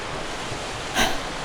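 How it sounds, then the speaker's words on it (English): Steady ocean surf rolls against a shore as a constant broad wash of noise, with one brief louder surge of a breaking wave near the middle. "just the sound of the waves crashing on the shore"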